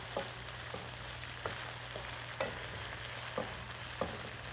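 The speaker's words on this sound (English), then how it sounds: "We're gonna let this go for just a few more minutes, just so you can see the sauce is all thick and creamy now." Dan dan taco sauce sizzles in a pan, a steady close frying hiss punctuated by regular soft scrapes and taps of stirring, with no talking.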